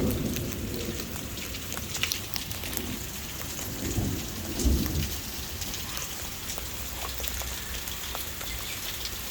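Low thunder rumbles roll through steady summer rain drumming on a surface, swelling loudest around the middle of the clip before easing back to the constant hiss of the downpour.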